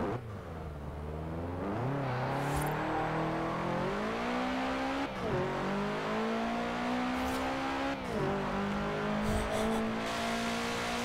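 Sports car pulling away in Forza Horizon 4, engine revving up through several gears, each climbing whine cut by a brief dip at the shift, loud and close with faint tire noise.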